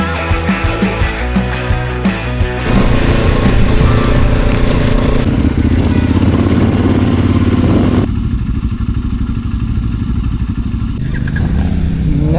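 Motorcycle on an adventure ride over rough roads and sand in Zululand, its engine droning steadily and loudly close by, with rattling clatter and shifting tone as it works over uneven ground.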